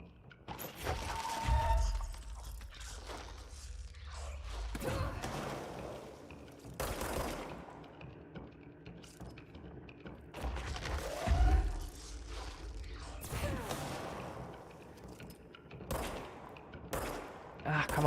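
Enemy gunfire in the game Control, scattered bursts and sharp impacts at moderate distance across a quieter stretch of game ambience, with a person talking now and then between shots.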